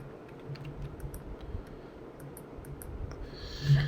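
A computer keyboard clicks through a shortcut: a short string of light, crisp keystrokes, close and fairly quiet, against a soft room background.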